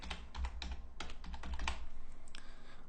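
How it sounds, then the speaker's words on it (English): Rapid keystrokes on a computer keyboard clatter in uneven bursts, close and fairly loud, with brief pauses between flurries of typing keywords into a web page editor. "In the value field, type in keywords."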